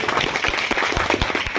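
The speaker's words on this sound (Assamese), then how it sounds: "এই দিৱসৰ বাবে আটাইকৈ মই হাত চাপৰি মনত কৰিছোঁ" Audience applause at an Affection Day 2024 event, brisk irregular clapping from a modest crowd, close and fairly loud throughout the short stretch.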